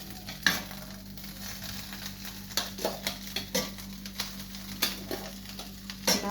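Egg rice frying in a pan, with a steady soft sizzle under repeated scraping and stirring strokes of a utensil against the pan, fairly close and moderately quiet, with no talking.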